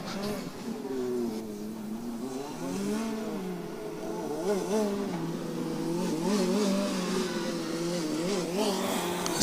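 A driverless Formula Student race car runs a trackdrive lap at Formula Student Germany 2023, its motor whine rising and falling steadily through corners, heard at a moderate distance without a break.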